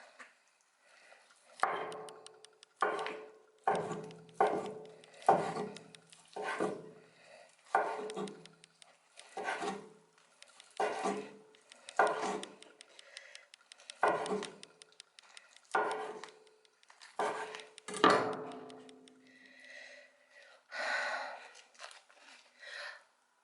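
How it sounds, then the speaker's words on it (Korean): Boiled pork being sliced thinly with a knife on a board, a steady run of close, regular cutting strokes, each with a soft thud, repeating about once a second with a rustle between them. "얇게 한번 썰어보자."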